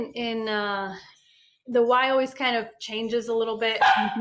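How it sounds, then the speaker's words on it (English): A dog barks repeatedly indoors, loud and close, with harmonic yips and bow-wows in bursts that overlap and alternate with people talking. "sorry about the dog"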